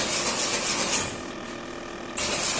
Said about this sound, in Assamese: এইটো হৈছে পেকিং মেচিন।